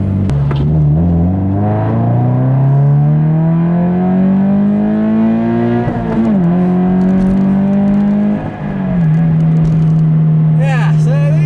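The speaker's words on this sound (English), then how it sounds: "I'll leave you with a nice little acceleration here," Subaru BRZ accelerating hard from inside the cabin, a loud steady engine drone that climbs in pitch through each gear, with two brief dips at shifts before pulling again.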